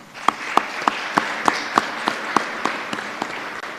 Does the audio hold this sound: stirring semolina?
no